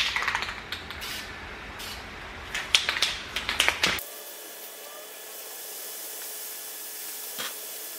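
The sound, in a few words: spray painting a Brembo brake caliper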